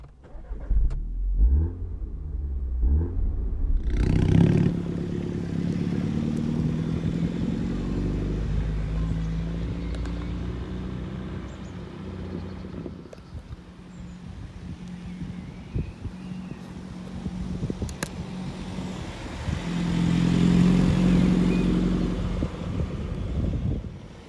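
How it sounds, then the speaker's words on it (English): A modified Motech Mini Cooper S road-legal go kart engine cranks and fires after a few faint clicks, then settles into a loud, close, steady running drone that swells as it revs and pulls away. "So let's start her up and see what she can do."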